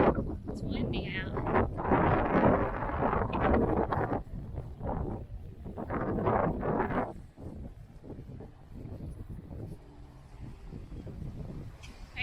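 Wind gusting on a nature trail in a park, loud rushing buffets hitting the microphone in surges that ease off partway through, with a person talking at times.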